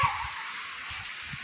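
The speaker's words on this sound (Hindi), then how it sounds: "यहाँ पर हमारा छत के ऊपर से पानी यहाँ गिरता है, ऊपर से बारिश का पानी देख सकते हैं ऊपर से गिरा है।" Rainwater spilling off a house roof during a downpour, a steady broad rush of falling water heard close by with a few faint low thumps underneath.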